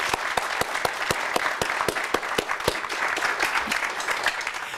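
Audience at a poetry reading applauding: steady, moderately loud clapping from a small crowd with a few sharp individual claps standing out, no voices heard.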